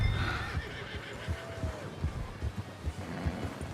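A horse whinnies in Red Dead Redemption 2 with a rising, wavering neigh, then hooves clip-clop in a steady, moderately close rhythm.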